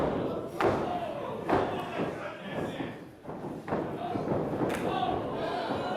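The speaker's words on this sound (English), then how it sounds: "A stalemate as the competitors trade forearms in the middle of the ring." Wrestlers trade forearm strikes in the middle of the ring at a DEFY Wrestling tag match, landing several dull, heavy thuds at uneven intervals while a commentator talks over the crowd noise.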